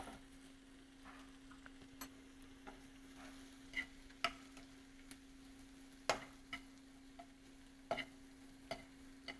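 Mixed mushrooms sauté in a pan with a faint, quiet sizzle, punctuated by scattered light clicks and taps of utensils against the pan, over a low steady hum.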